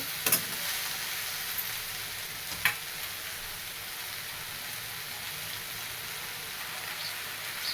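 Okra (bhindi) stir-fries in a pan over a low flame, giving off a steady, even sizzle. A couple of sharp clicks from stirring stand out against it.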